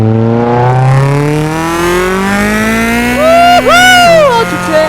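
Loud, raspy modified exhaust of a lowered Peugeot 207 in Euro Truck Simulator 2, rising steadily through a long rev with a sharp shift and a wavering squeal on top near the end, close and dominant.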